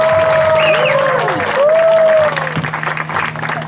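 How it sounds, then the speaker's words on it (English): Wedding guests applaud newlyweds Dewayne and Mae, a burst of steady clapping with whoops and cheers, fading slightly toward the end. "Let's give them a round of applause."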